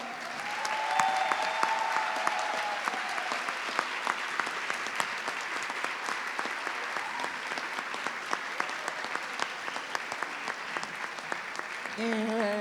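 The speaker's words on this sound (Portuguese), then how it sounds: "para quem eu peço uma salva imensa de palmas" An audience at a literary panel in Brazil gives a poet a long, sustained round of applause, dense and even throughout, with a voice briefly emerging near the end.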